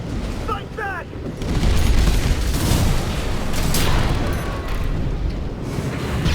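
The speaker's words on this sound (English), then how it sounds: "Enemy attack! You're after the artillery!" Heavy booms and rumbling explosions from artillery fire in the mech combat game Armored Core 6, a loud continuous barrage with brief voice-like chirps early on.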